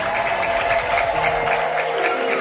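A congregation claps in a rhythmic, pulsing beat at a prayer service, many hands together over a sustained tone of music, fairly loud and even throughout.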